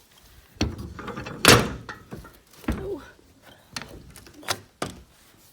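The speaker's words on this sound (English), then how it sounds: "So it has both doors open, and they hook, so I can like keep that open." Doors on a new horse trailer are swung open and hooked back at a farm, giving several loud metallic thunks and clanks with latch rattles between them, spread irregularly, with a brief voice and some light talk.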